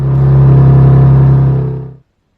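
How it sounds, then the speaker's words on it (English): An Infiniti G35 engine idles loudly with a steady low hum and rumble close by, holding for about two seconds before cutting off abruptly into silence. "the car turned on"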